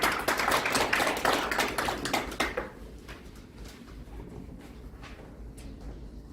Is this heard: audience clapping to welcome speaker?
yes